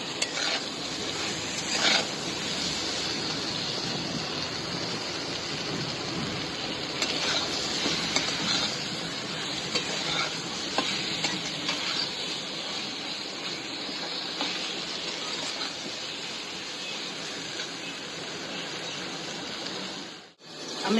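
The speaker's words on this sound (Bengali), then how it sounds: "একটু ভাজা হতে দেবো বেগুনটাকে" Eggplant pieces seasoned with salt and turmeric fry in a pan for a hilsa curry, giving a continuous even sizzle and hiss with occasional light scrapes, steady throughout and then briefly cutting out near the end.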